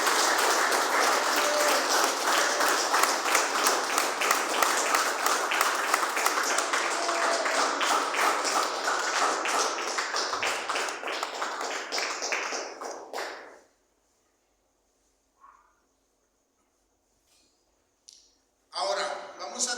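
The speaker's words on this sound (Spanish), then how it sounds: "dele una ofrenda de palmas al Señor" A church congregation applauds in a long, steady wash of clapping that rises and holds for about thirteen seconds, then breaks off abruptly into near silence, with a brief burst of clapping returning at the very end.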